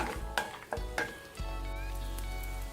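Cashew nuts roast with onions in a hot pan, giving a few close clanks and scrapes of a spoon stirring, then a steady soft sizzle carrying on alone.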